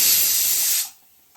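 Steam from a pressure cooker whistle, lifted by hand while mung beans and rice cook, bursts out as a loud, close, steady hiss, then cuts off sharply after under a second and leaves near silence.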